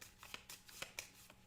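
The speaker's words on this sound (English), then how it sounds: "we're going to just randomly shuffle that in" Game cards from a Fire in the Lake board game deck being shuffled by hand, a quick series of soft riffling flicks and taps in uneven rhythm, close but quiet, with no talk.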